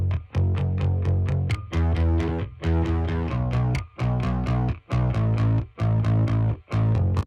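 Electric bass guitar playing a rhythmic riff of repeated short phrases, given mild distortion and filtering for a slightly gritty, rounded tone, with brief gaps between phrases and no voices.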